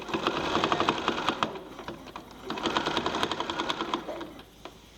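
A sewing machine stitches steadily across a beginner quilt, its rapid needle pulses running in dense bursts with a brief slowdown midway before resuming, then easing off near the end.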